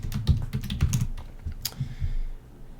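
Fingers tap out a password on a computer keyboard in short, uneven bursts of close, crisp keystrokes, with no talking.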